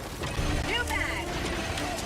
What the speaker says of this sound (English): New mag.